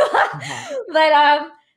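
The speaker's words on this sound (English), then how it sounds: "So sorry, my little dog is barking." Small dog barking indoors near the microphone, two or three sharp high yips and a whining bark in quick succession, loud and close.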